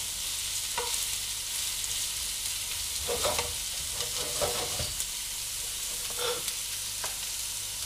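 Green pepper and diced vegetables being stirred in a frying pan, a steady sizzle with intermittent scraping strokes of a utensil, close and alone.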